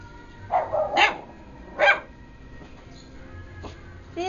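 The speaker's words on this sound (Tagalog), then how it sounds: "Kahol." A pet dog named Bobby gives several sharp, nearby barks in quick succession, then a softer yip after a pause, with quiet room noise between them.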